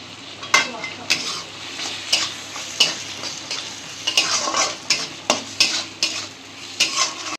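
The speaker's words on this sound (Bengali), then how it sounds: "কিছুক্ষণ এভাবে তেলের সাথে কষিয়ে নেওয়ার পর এবার টমেটো কুচিটাও দিয়ে দিচ্ছি।" Chopped tomatoes frying with spices and salt in oil for paneer masala, a loud close sizzle under regular scraping stir strokes and sharp clacks of a spatula against the pan.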